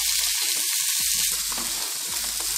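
Carrots and beans frying in a pan for a bread cheese sandwich, giving a loud, continuous close-up sizzle with a few soft stirring scrapes.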